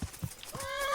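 Horse in the medieval game Kingdom Come: Deliverance, with a few hoof thumps at the start, then a rising, wavering whinny that fills the rest of the second, close and moderately loud.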